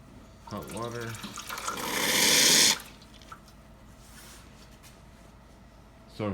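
An Expobar espresso machine dispensing hot water: a brief voice comes first, then a loud, steady rush of hot water lasts about a second before it cuts off, leaving a quiet background.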